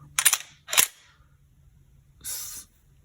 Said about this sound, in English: once you rack the slide, now it's ready to shoot